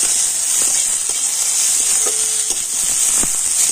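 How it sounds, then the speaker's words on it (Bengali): Chopped tomato with onion frying in a pan, a loud, steady, close hiss of sizzling oil with a few faint scrapes of stirring and no voices. "তো টমেটোটা একটু ভেজে নেব।"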